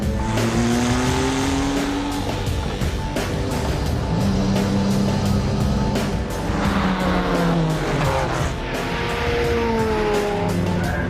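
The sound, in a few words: Jaguar XJ220 sports car driving on track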